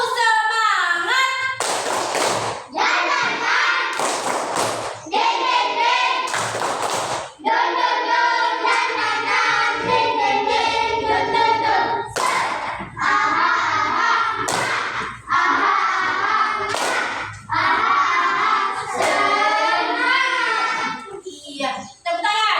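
A school class does the rhythmic clapping cheer tepuk semangat as an ice-breaker, sharp claps and thumps in patterned bursts mixed with children's voices chanting along in a loud, lively room.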